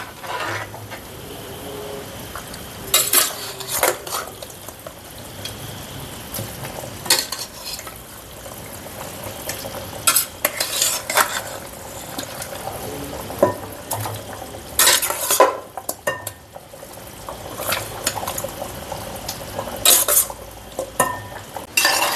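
Repeated scraping and clinking of a spoon stirring chicken into curry in a pan, in irregular bursts over a low background sizzle.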